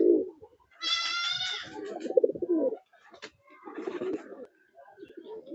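Fancy pigeons in a village breeding loft coo in low, throaty bursts, close by, with a brief higher call among them and no talk.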